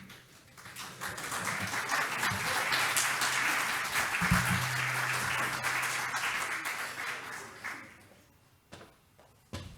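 Audience applause fills a hall at a Coordinador Eléctrico Nacional event as an executive is welcomed to speak. Steady, dense clapping runs for most of the stretch, then thins and fades near the end.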